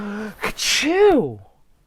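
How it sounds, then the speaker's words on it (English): A single cartoonish sneeze from a whale, with a sharp intake, a burst of air, then a warbling vocal tail, performed by a voice. "The smoke from the fire made Monstro sneeze."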